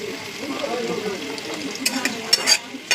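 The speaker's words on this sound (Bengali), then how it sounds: "গ্যাসের আঁচ একদম কমিয়ে দিয়ে আলুগুলো ভেজে নেবো" Thin potato slices sizzle softly in a pan over a low gas flame, with stirring throughout and a few sharp clinks of utensil on pan near the end.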